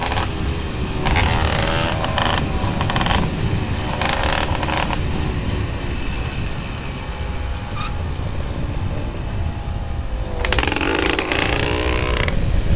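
A Yamaha DT dirt bike engine drones steadily throughout, with several bursts of higher-pitched revving rising above the constant mechanical rumble.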